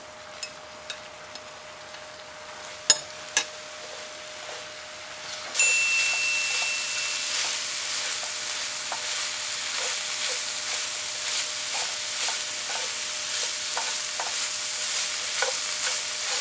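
Dried pollack strips hit a seasoning sauce in a pan over low heat, starting with a few sharp clanks, then a sudden rise into a steady sizzle with rhythmic stirring scrapes.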